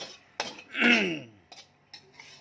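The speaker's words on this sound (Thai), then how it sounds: "มันต้องมีเสียงกระทะ" A few sharp metallic clanks and a scraping sizzle of a pan being worked on the stove, close by, in short bursts, while cooking lotus stem salad.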